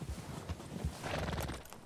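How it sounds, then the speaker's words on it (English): Horse hooves clip-clopping with a short whinny in Red Dead Redemption 2, busy and close over a brief stretch with game ambience. "Hey, control that horse."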